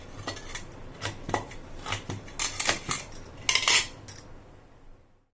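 A metal fork works over watermelon rind, making a steady run of light clinks and scrapes against a dish in a quiet room before fading out.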